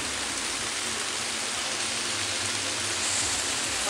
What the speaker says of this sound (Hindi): इस बार अच्छी बरसात हो रही है